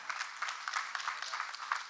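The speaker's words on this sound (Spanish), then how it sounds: "Lo recibimos con un aplauso, por favor." Audience applause greets Pablo López, finance minister of Buenos Aires province, as he is introduced at an event on the province's economy; a faint, brief, steady patter of many hands clapping.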